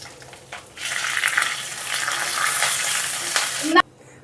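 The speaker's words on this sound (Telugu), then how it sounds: "చక్కగా వేగేయండి ఇప్పుడు ఇందులో ఒక పది ఎండుమిర్చి కూడా వేస్తున్నాను" Dried red chillies, curry leaves and cumin hit hot oil, bursting into loud, close sizzling and crackling that holds steady for a few seconds before cutting off abruptly, with no one speaking.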